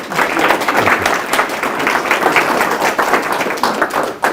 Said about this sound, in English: if you could just give a round of applause for Lou Stoops